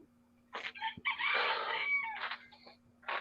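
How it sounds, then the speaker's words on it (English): Roosters crow outdoors, one long full crow stretching over a second, framed by shorter calls and clucks; the sounds are fairly close and clear over quiet background with a faint steady hum underneath. "I hear the roosters."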